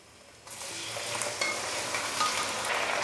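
A kilo of chicken dropped into a pan of frying onions for aloo chicken curry, a sudden burst of loud sizzling that then holds steady with stirring scrapes underneath.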